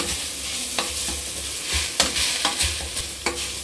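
Grated sweet potato sautéed in a pan for sweet potato payasam, a close, loud sizzle with brisk scraping strokes of a spoon stirring it around, several quick scrapes in a row.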